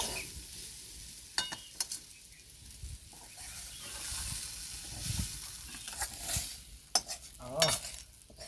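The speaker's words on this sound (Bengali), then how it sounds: "সব আমি ভালো করে নাড়াচাড়া করে মিক্স করে নিয়েছি।" Vegetable roll filling being stirred in a pan, with soft sizzling beneath repeated scraping and clicking of a spoon against the pan, a few sharper knocks standing out.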